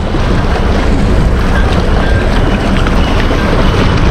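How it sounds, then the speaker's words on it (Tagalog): Strong, steady wind roars into the microphone with constant low rumble, likely over open water while fishing with a net; no voices, unbroken throughout. "Mahangin po kasi ngayon dito."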